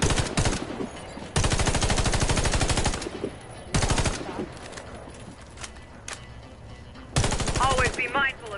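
Rapid automatic gunfire in a shooting video game aimed at a target, several long loud bursts broken by short gaps, with a voice talking in between.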